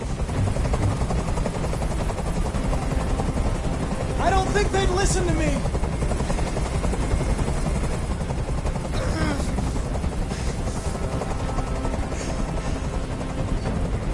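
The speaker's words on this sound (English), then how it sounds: "Tell that helicopter to get out of here!" A steady, loud video game helicopter rotor thrums throughout, with a voice speaking briefly over the constant chopping drone.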